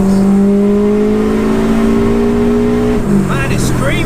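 A fully built 530 bhp Subaru WRX engine screams under hard acceleration, a loud sustained high-revving tone climbing and holding before easing off, with engine whine dominating and brief shifts near the end.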